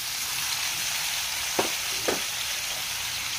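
Fried jackfruit sizzles in a pan with sautéed garlic and onion, a steady broadband frying hiss throughout with two brief louder bursts as the pieces are stirred or settle, close and alone with no talk.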